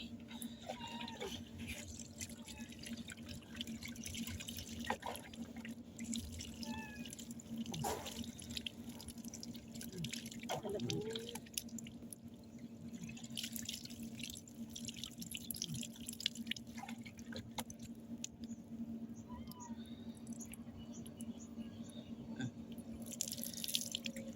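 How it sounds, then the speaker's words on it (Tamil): Water trickling and dripping quietly, with scattered irregular drips and light splashes over a faint steady hum, close and soft throughout. "தண்ணி ஊற்றுமா?"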